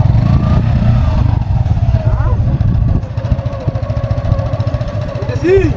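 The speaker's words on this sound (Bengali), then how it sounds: "আমি মোটরসাইকেল যাইতেছি" A motorcycle engine putters with a steady low throb, and someone talks over it.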